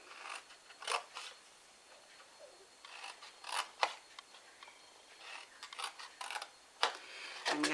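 Scissors snipping through cardstock along the bottom edge of a gift box card up to the first score line, heard as several short bursts of quiet, close cuts separated by pauses.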